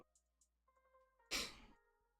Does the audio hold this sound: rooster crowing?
no